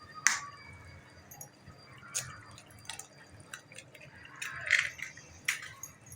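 Four eggs cracked one after another into a pan for egg masala, giving a few sharp, separate cracks and small wet drips, faint and spaced apart against a quiet background.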